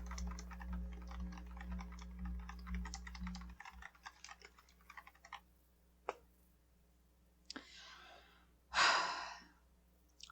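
A small plastic Barbie toy computer keyboard is typed on in a quick run of light clicking keystrokes, then a few isolated taps, followed by a loud close sigh or breath.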